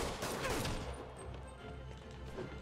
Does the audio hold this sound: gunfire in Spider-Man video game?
yes